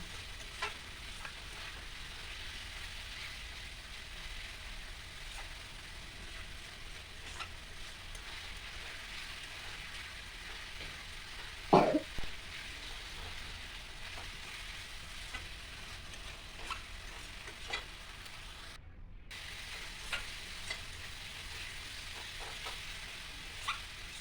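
Vegetables and spice paste sautéing in a pan for a pabda fish curry give a steady, moderate sizzling hiss, with one sharp scrape of stirring partway through and a few lighter clinks.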